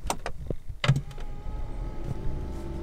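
A car's power window whirs as it opens, a steady motor hum running on after a few sharp clicks and knocks at the start, close and clear in a quiet cabin.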